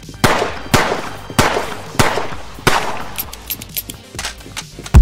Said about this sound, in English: shoot her! Don't let her take Morgan's gun!